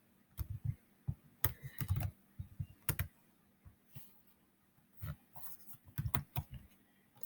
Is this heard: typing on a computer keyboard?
yes